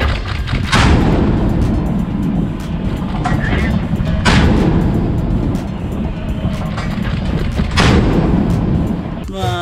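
A warship's 57 mm naval cannon fires in a combat game, giving three heavy, loud booms about three and a half seconds apart over a continuous low rumble.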